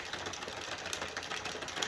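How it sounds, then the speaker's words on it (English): A hand-cranked yarn ball winder turns steadily, giving off a continuous fast whirring and ticking, close and fairly quiet, with no voices. "I am hand cranking this, but you can use a motor if you have one."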